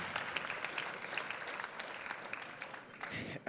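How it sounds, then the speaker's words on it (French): A church conference audience claps as performers walk off the stage, giving a steady wash of applause that continues to the end, ending in a brief louder bump. "On peut les applaudir pendant qu'ils descendent."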